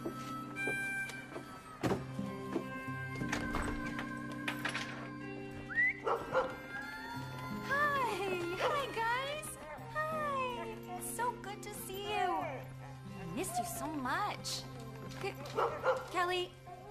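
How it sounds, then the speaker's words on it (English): Dogs bark, yip and whimper in a romantic drama scene. The sound is fairly quiet and mixed under music and people talking. "what are you barking at?"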